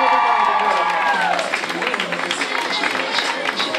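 Audience at a fashion show applauds and cheers for the models, a steady wash of clapping and crowd noise that swells briefly before settling, with a voice briefly audible over it.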